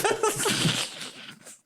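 A single sharp sneeze bursts out loudly, then trails off into a fading breathy tail within under two seconds.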